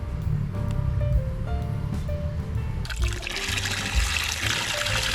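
Water from a Pedrollini booster pump gushes into a bucket, a steady trickling splash under low hum that surges into a louder, brighter rushing pour partway through.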